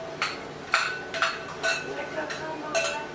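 Children mix cake batter with eggs in a bowl, a utensil striking the bowl in a steady series of about six clinking taps close by, with quiet voices in the background.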